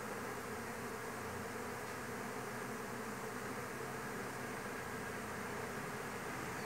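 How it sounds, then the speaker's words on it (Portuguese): A swarm of honeybees in a town centre enters a wooden hive box, a steady dense buzzing hum, faint and unbroken, with no voices. "Eu não sei de onde vem tanto enxame aqui perto de casa"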